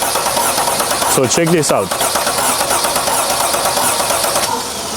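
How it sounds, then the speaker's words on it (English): A Sprinter van engine cranks over during a compression test on a misfiring engine with two replaced injectors, a steady loud churning under a voice. "So now I'm gonna crank the engine."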